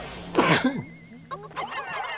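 A short, sharp sneeze-like burst comes early, followed by quieter throat noises and faint chirpy game sounds from Pikmin 2 in the background.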